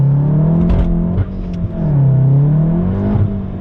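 A Stage 1 VW MK7 Golf R with a Cobb intake, Nameless Performance catback and OTS tune, its engine revving up under hard acceleration while the clutch slips, giving a loud close drone that wavers and flares in pitch.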